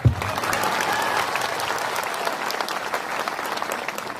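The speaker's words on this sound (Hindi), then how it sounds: "अरे हम लोग का बुरुई को भी ताली करो यार।" A crowd applauds steadily at a community gathering, the sustained clapping starting sharply and keeping a dense, even level to the end.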